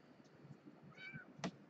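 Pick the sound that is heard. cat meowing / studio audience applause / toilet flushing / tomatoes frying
cat meowing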